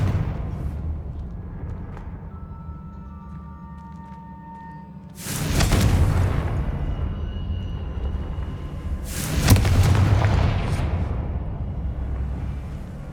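Confringo fire spell blasts in Hogwarts Legacy, two loud roaring explosive bursts a few seconds apart over a low ambient game rumble, each trailing off slowly.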